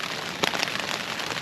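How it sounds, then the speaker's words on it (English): Heavy rain pouring down on a tent along a long-distance trail in the Scottish Highlands in March, a dense, loud, continuous drumming patter close overhead, heard alone. "As you can hear now, it's absolutely throwing it down."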